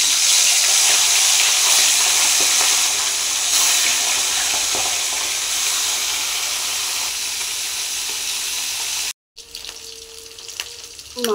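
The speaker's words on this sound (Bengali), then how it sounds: "তেল গরম হয়ে গেছে, এবার মাছের মাথাগুলোকে দিয়ে" Fish heads sizzle loudly in hot oil in a kadai, a continuous crackling hiss that holds steady, then briefly drops out before resuming more quietly.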